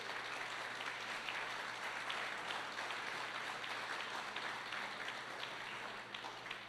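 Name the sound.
congregation applauding in church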